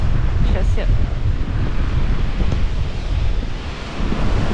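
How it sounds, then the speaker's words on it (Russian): Strong wind gusts buffet the microphone on the Crimean shore at Simeiz while sea waves churn and wash in, a loud steady roar of surf and wind, close and unbroken. "ветер начинается. Начинает сильнее. Все сильнее и сильнее. И гонит волну как."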